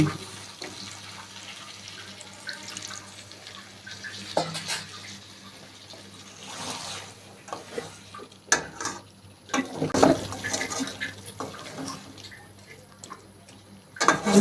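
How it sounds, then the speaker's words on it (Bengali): A small splash of water poured into a pot of bhuna broiler chicken, a brief trickle and splashy pour amid low kitchen background noise, fairly quiet and close. "আমি এখন সামান্য পরিমাণ জল দিয়ে দেব"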